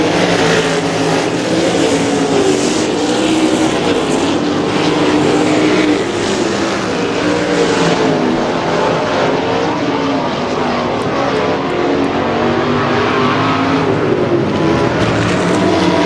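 A pack of 410 sprint cars roars around a dirt oval at Butler Battlegrounds in Quincy, Michigan, engines droning loud and continuous for the whole stretch.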